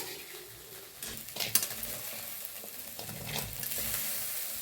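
Roasted cluster beans being scooped from a pan onto a plate, quiet scraping and stirring with a few light utensil clinks over a faint lingering sizzle, with no speech.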